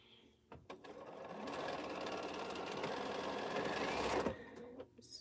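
A sewing machine stitches quilt block seams for Churn Dash blocks in one steady, continuous run of about four seconds, with a brief start and a short stop at the end. No one speaks over it.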